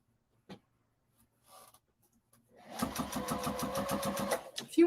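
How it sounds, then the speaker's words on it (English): A sewing machine stitches binding onto a quilt. Its motor starts after a quiet stretch and then runs in a fast, even, close whir for about two seconds, with a few faint knocks before it. "I'm just finishing up this binding by machine."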